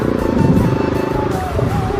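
A single-cylinder Yamaha MT15 motorcycle runs close by with a loud, steady, throbbing engine drone that rises and dips slightly as it rides.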